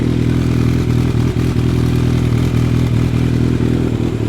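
A Kawasaki Z900 motorcycle engine idles steadily up close while warming up, a low rumbling thrum with a light mechanical clatter running through it, no voices.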